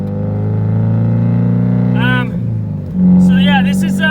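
A rough, uneven Mazda Miata engine with a failing condition runs loudly and unsteadily, its low rumble wavering instead of settling into a smooth idle.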